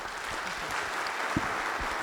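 Applause from an audience at a community conversation event about the new constitution in San Vicente de Tagua Tagua, a steady wash of clapping lasting about two seconds at moderate distance, with no talk over it.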